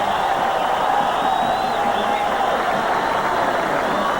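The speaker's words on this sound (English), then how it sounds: "Listen to the crowd." Dense, steady roar of a large baseball stadium crowd at the 1987 MLB All-Star Game in Oakland Coliseum, with scattered whoops and cheers rising from the broad wash of noise, continuous and moderately loud.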